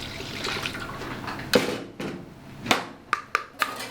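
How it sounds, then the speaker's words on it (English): Water and yeast being mixed by hand for focaccia dough in a home kitchen, with soft liquid trickling and stirring followed by several sharp close taps and splashes of utensil against bowl. "Now you mix the water and the yeast together."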